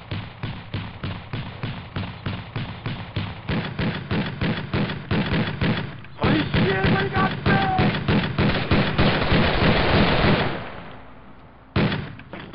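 Rapid repeated gunfire in a video game, a long run of regular loud close shots about every third of a second that briefly pauses, resumes and trails off, with one final shot at the end.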